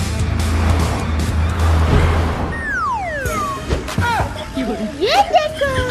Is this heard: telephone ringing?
no